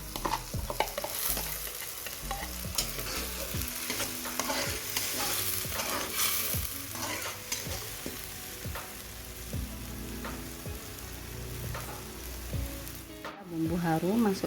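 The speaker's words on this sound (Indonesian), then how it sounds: "Tumis sampai bumbunya harum." Ground spice paste sautéed in a pan for a shrimp stir-fry, with a continuous close sizzle and repeated scraping and stirring strokes throughout.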